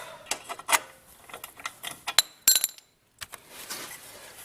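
A wrench works loose the bolts on a Yamaha Wolverine skid plate, giving a scattered series of sharp metallic clicks and clinks, close and fairly quiet, with a short silent gap partway through.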